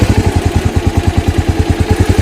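A motorcycle engine runs steadily at low revs as the clutch is let out and the bike begins to move off, its rapid, even pulsing close and loud throughout.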